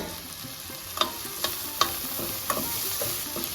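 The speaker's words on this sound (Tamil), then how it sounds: "வெங்காயம் நல்லா பொன்னிறமாக ஆற வரைக்கும் வதக்கணும்." Onions and curry leaves sautéing in a pan over medium-low heat: a soft steady sizzle broken by about five sharp spatula taps against the pan.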